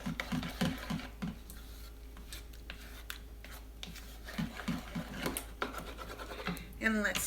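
A spoon scrapes and stirs Thousand Island dressing in a bowl, giving a run of close, rhythmic scratching strokes with short pauses between bursts.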